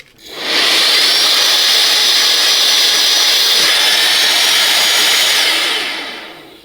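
A vacuum cleaner switched to blower mode roars steadily at close range, a loud, even whoosh that holds for several seconds and then tails off as it shuts down.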